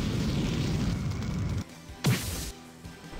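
A fire spell explodes in the video game Grandia II: a single sharp burst with a crashing whoosh that rises loudly out of game noise, then fades within half a second.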